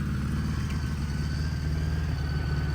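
A Honda GL1000 flat-engine motorcycle idles high near 2100 RPM, a steady, close, low mechanical thrum with even pulsing and no other sounds.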